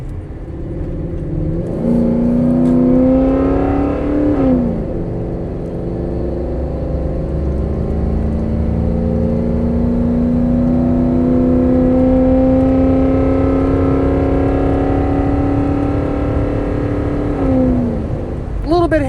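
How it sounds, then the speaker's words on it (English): A 1992 Ford F150 4x4 pickup with a 5.0-liter engine and automatic transmission accelerates on a test drive. The engine note climbs steadily through long pulls with a shift between them, heard from inside the cab. "Bit heavier acceleration there from the 5-liter, and it does what we want it to do."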